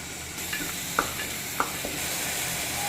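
Tomatoes sautéing in a pan, stirred with a few scattered scrapes and knocks of the utensil over a soft, steady sizzle, close by and without talk.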